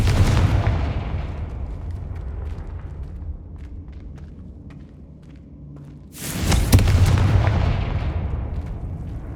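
In Hogwarts Legacy, Confringo fire spells explode, one heavy boom rumbling and fading out, then a sharp, bright blast a few seconds later trailing off into a low roar.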